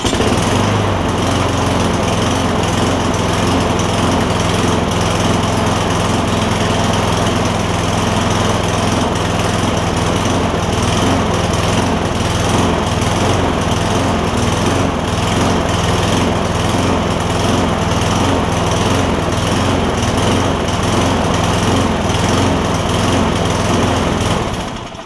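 A Craftsman push lawn mower with a Briggs Quantum engine, one suspected of needing a carburetor cleaning, runs loud and close in a continuous, steady drone for the whole stretch, with no talking.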